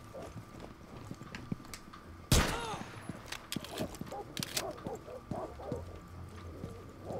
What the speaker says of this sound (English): That was me that shot him.